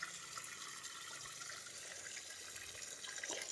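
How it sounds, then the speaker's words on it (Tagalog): Spring water runs and splashes continuously on a farm lot, a soft steady flow with occasional trickles and drips, fairly quiet and unbroken. "Yan po ay running water. So free flow."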